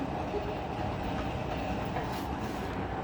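A Paris metro train rumbles through Front Populaire station in a dense, steady roar of rolling wheels and carriage noise, loud and close, with no voices.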